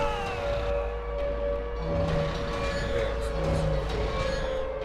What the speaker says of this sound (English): But the siren started ringing